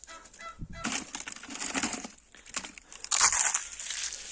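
Close crackling and crunching as eggshells are crushed by hand, in a few bursts with brief pauses.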